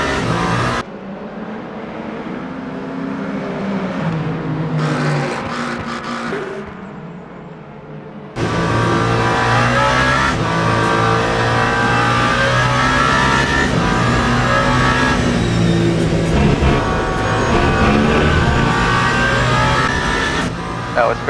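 A race car engine in the Le Mans Ultimate game at the 24 Hours of Le Mans drones and revs steadily, with gear shifts and a sharp rise in loudness partway through, while a commentator talks over it.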